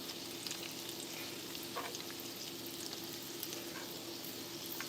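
Cheese curds fry in hot grease with a constant, dense crackling sizzle, faint and even, with occasional small pops.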